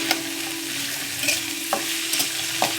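Green chilies frying with cumin seeds in hot oil, a steady close sizzle broken by a few sharp scrapes of a spatula stirring the pan.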